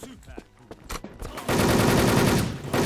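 Wolfteam shooter gameplay: a few scattered shots and effects give way to a loud, sustained burst of rapid automatic gunfire that fills the second half.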